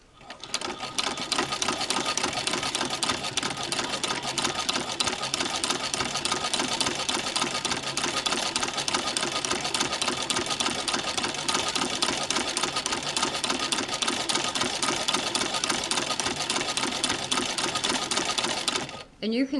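A Singer 15-88 sewing machine with a zigzagger attachment stitches down the edge of a fabric test square, running in a fast, even mechanical chatter that continues steadily for the whole stretch before stopping.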